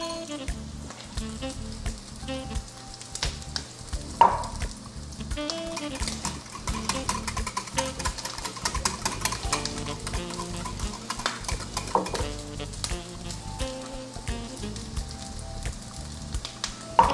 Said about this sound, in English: And this sauce is almost finished. And you just have to keep whisking